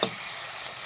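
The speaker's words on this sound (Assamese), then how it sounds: "এই ভাজি আছোঁ মই" Ridge gourd, mixed vegetables, potato and tomato fry in a pan with a quiet, steady sizzle that opens with a small burst and lasts under a second, with no talking.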